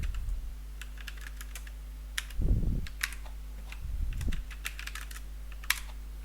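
Names being typed on a computer keyboard, bursts of quick light key clicks with short pauses and a couple of heavier thumps, near and moderately quiet over a low steady hum.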